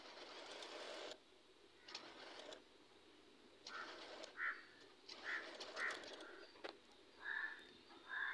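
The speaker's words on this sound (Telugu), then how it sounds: "లైనింగ్ పీస్ మీద ఒక స్టిచ్ వేసేసేయండి." Sewing machine stitching the lining of a neckline, running in several short bursts of fast mechanical whirring with brief pauses between, close and fairly quiet, with a few faint bird calls in the background.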